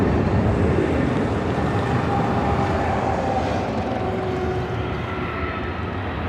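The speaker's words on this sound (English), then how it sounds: "Southwest 737-800 in the Illinois 1 livery, coming in from Dallas Love Field. Slowly but surely making its way over to Terminal 1." A Southwest Boeing 737-800 in Illinois One livery taxiing slowly to Terminal 1 at LAX, a steady engine hum and whine that fades slightly toward the end, heard alone without voices.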